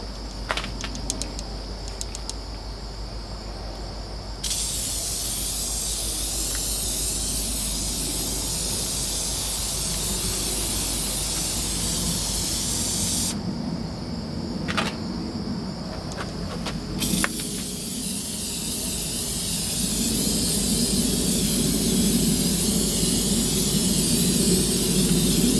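A final coat sprayed on in long bursts, a close hissing spray that starts and stops twice with short pauses between, over a low background rumble.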